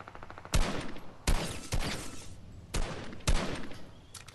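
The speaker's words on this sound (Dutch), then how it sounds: "Dat zijn een paar schoten van mij raak." Sharp gunshots in Fortnite Battle Royale ring out in bursts, five or six loud cracks with echoing tails and scattered rapid fire, no voices.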